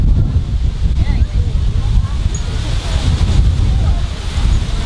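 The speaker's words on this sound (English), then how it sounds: "It is windy today." Strong wind on Castaway Cay island buffeting the microphone with low rumbling gusts, while faint voices are heard in the background.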